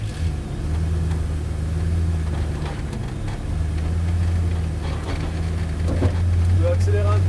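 A Ferrari F430 GT4 race car eases out of the pit lane in first gear on light throttle, its engine a loud, steady close-up drone that rises slightly near the end, with a voice talking over it.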